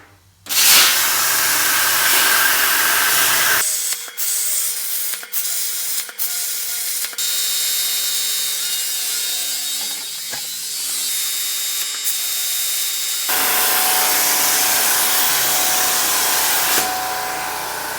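Hood hinge parts for a GTO restomod being cut from 1/4 inch steel plate: a loud, steady rushing hiss runs in two long bursts, with a quieter humming, clicking stretch between them and no talk.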